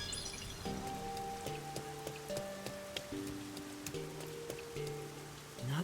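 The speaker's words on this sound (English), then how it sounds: "It rains 24/7." Steady rain patters down in the video game Master Detective Archives: RAINCODE, a continuous soft hiss with scattered droplet ticks beneath a quiet background melody.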